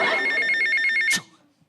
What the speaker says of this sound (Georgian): ტელეფონი